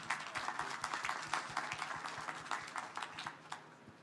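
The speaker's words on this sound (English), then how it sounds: "could everyone please join me in giving Charlie a big round of applause?" An audience at a business talk applauds for the speaker, brisk many-handed clapping with distinct individual claps, steady for several seconds and fairly quiet, heard from within the room.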